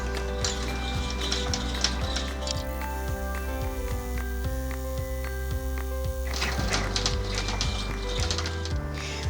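An embroidery machine stitches a tack-down line with a steady, rhythmic mechanical chatter and whir of the needle, continuous and fairly close throughout.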